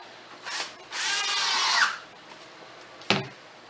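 Screws are driven into an oak chair seat frame during antique furniture repair: a short power-driver burst, then a longer whirring run, followed by a sharp knock, close and without talk.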